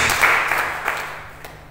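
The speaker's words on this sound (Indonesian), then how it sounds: "Beri tepuk tangan terbaik buat Yesus." A church congregation applauds, a broad burst of clapping that starts loud and steadily fades away over under two seconds.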